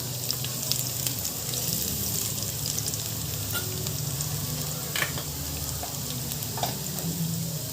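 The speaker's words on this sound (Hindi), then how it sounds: "लहसुन को भी थोड़ा हम सुनहरा होने तक भून लेंगे" Garlic frying in a pan until golden, a steady close sizzle with occasional stirring scrapes and small crackles.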